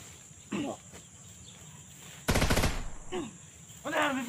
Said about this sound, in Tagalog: May putok!